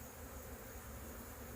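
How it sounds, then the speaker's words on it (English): Honeybees at a hive being combined with a weak colony, a faint, steady, dense buzzing hum with no pauses and no speech. "So now you see the bees on both sides."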